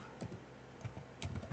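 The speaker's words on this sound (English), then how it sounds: "I just need to be typing 25, enter" Several quick taps on a computer keyboard as numbers are entered, a short irregular cluster of soft, close keystrokes with a louder burst near the end.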